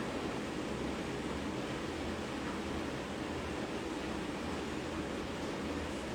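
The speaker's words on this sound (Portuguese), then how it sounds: "tá um chuvão aqui, vocês estão me ouvindo?" Heavy rain pouring down in Bahia, a continuous broadband wash of water noise that stays steady and fairly soft, with no clear talk over it.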